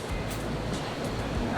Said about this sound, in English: there's something about just waves crashing and hearing the water